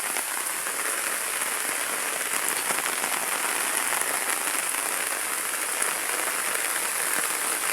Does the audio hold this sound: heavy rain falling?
yes